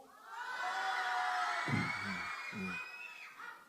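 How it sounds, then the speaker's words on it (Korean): Children's cheer in a church service, a loud sustained "wah" shout from a young crowd answering a ram's horn call, with a brief adult voice breaking through partway. "여기만 소리 질러요"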